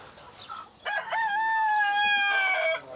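A black Altsteirer hen, an old Alpine chicken breed, gives a single drawn-out tonal call lasting about two seconds, close by and clear, with no talking.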